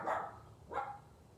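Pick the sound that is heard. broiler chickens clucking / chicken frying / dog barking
dog barking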